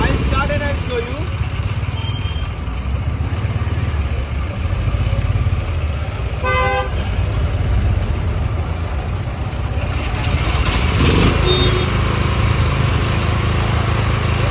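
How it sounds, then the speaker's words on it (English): An ultra compact petrol generator set started by recoil runs with a steady, loud, buzzing engine drone throughout, close by, with a brief clattering burst midway. "Ultra compact petrol generator set. It can be started by recoil also. I'll start and I'll show you."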